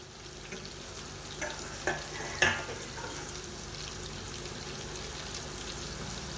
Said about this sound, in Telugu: ఇప్పుడైతే సిమ్లో ఒక 1/2 అవర్ పాటు ఫ్రై చేసుకుందాం, అటు ఇటు తిప్పుతూ.